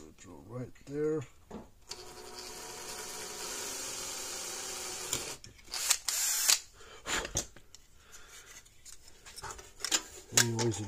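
A power drill whirs steadily for a few seconds as it bores a hole while repairing a Hol-Dem Super Power 980 electric fence charger, followed by short bursts of rubbing and scraping, with brief voices around it.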